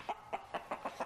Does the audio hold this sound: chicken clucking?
yes